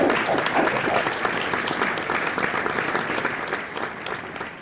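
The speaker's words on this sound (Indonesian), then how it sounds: "kepada para hadirin mohon memberikan aplaus" Audience applause at a formal government signing event, steady sustained clapping from a crowd throughout, fairly loud and close.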